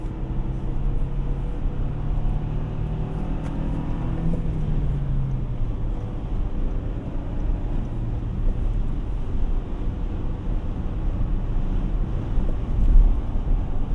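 Steady wind buffeting over a continuous low road and engine rumble inside a 2024 Toyota Tacoma cruising at 70 mph, with no voices, holding fairly level throughout.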